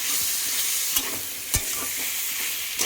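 A spice paste of onion, ginger and cumin with turmeric and green chili fries in a pan under a constant close sizzle, broken by a few sharp scrapes of the stirring spoon.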